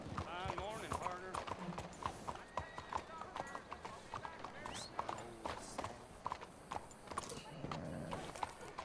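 Horse hooves clip-clop steadily in Red Dead Redemption II as the horse trots along, with occasional whinnies, while someone talks loudly over the game sound throughout.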